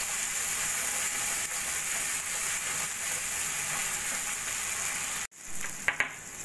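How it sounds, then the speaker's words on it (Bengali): Mustard and poppy seed paste frying in oil for a hilsa curry makes a constant close sizzle and hiss with no voices, then breaks off and gives way to a couple of light utensil clinks. "সর্ষে পোস্তটা 1 মিনিট মতো ভাজা করে নেব তেলের মধ্যে"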